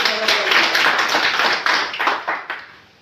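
An audience claps steadily at a business plan presentation, a dense, loud wash of many hands that fades out toward the end.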